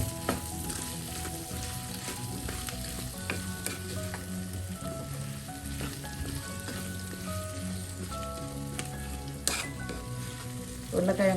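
Brinjal and potato pieces with salt sizzle and fry in a pan, stirred with a utensil that scrapes and clatters steadily, with a dense crackling hiss throughout and no talking.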